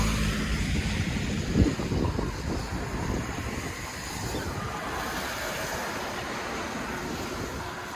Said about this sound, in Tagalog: Yan medyo lumalakas na uli yung ulan.